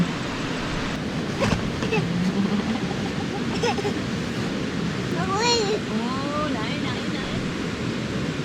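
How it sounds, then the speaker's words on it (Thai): Stream water flows steadily beside a riverside campsite, a continuous rushing wash filling the background while people talk over it. "กับเสียงน้ำลำธาร"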